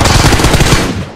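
Rapid gunfire from a video game match, a loud dense burst of automatic shots that rattles continuously for about a second before tapering off.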